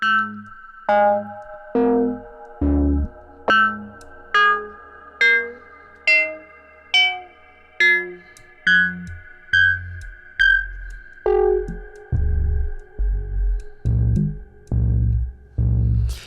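An Intellijel Cascadia synthesizer plays a sequence of repeated plucked notes with a steady rhythm, each note trailing off into a lingering reverberant tail; no voices.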